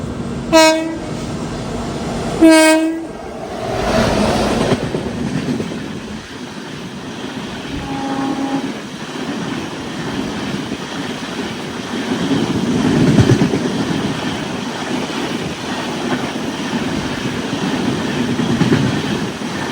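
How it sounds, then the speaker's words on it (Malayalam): Jan Shatabdi express train passing close by while overtaking the Kerala Sampark Kranti: two loud horn blasts open, then a sustained rumble with clickety-clack of wheels swelling and fading as the cars roll past. "അപ്പോൾ ജനശതാബ്ദി ഇപ്പം നമ്മുടെ കേരള സമ്പർക്കാന്തി ഓവർടേക്ക് അടിക്കും."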